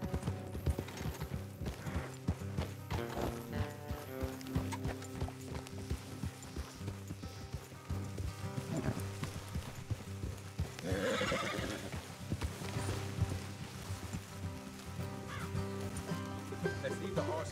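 Horses in the Red Dead Redemption 2 video game, with repeated neighs and whinnies over steady clip-clopping hooves, game ambience and music running underneath.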